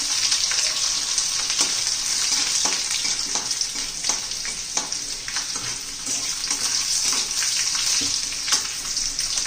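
Asafoetida and garlic sizzle in hot oil as a tempering for zunka, a bright, continuous frying hiss with small crackling pops, close and steady with no talk over it.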